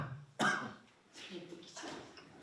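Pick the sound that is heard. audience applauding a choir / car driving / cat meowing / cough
cough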